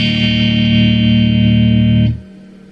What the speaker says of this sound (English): It's literally just me going into the amp, and the amp has a little bit of reverb set in